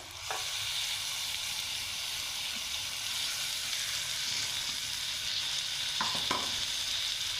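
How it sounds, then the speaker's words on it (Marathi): Masala-marinated prawns for biryani fry in hot oil, a dense, continuous close sizzle with a couple of brief clinks from a utensil. "आता आपण मसाला लावलेला कोलंबी टाकून घेऊ याच्यात"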